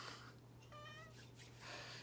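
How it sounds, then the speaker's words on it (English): Cat meowing indoors, one drawn-out harmonic mew in the middle of a quiet room with a steady low hum underneath, faint and fairly close. "don't worry if the cats are meowing"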